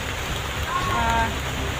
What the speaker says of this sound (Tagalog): Hindi namin inaasahan na pagdating namin dito ay sobrang ulan mga idol.